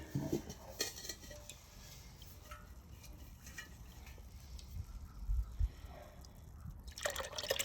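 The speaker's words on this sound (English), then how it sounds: "I'm going to put the pot down for a moment to get my grip again while we continue." A pot of Brazilwood and weld dye for merino wool is set down with metallic clanks and knocks, followed by scattered drips and trickles of liquid, fairly close and quiet.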